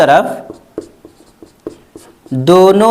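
Pen writing out a trigonometry solution on paper, a series of short light strokes and taps spaced through a pause in speech, with a voice talking at the start and end.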